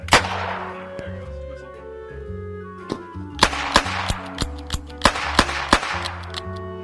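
A gun test-fired in a video game: a single sharp shot, then a quick series of sharp, evenly spaced shots over ringing tonal background music, loud and close.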